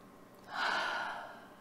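A single slow, audible breath rises and then eases off over about a second, heard close and alone against a quiet background during a calm tapping exercise.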